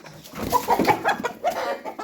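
Brahma and Indian roosters cluck and squawk close by in a quick, uneven series of sharp calls, loud and agitated, with no talking over them.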